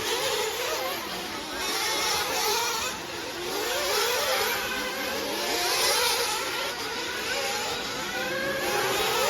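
Several 1:8 scale nitro RC off-road trucks race in a national final, their high-pitched two-stroke engines buzzing and revving continuously in overlapping waves at middle distance.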